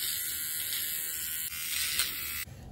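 An electric eyebrow and upper lip trimmer runs with a steady high-pitched buzz, held close, its tone shifting slightly a couple of times as hairs catch in the blade.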